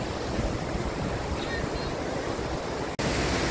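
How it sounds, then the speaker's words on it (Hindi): Roadside waterfall at Nani in Bhandardara, a steady loud broadband rush of falling water that fills the whole clip, cut by a brief dropout near the end. "अभी हम आ गए हैं नानी वाटरफॉल।"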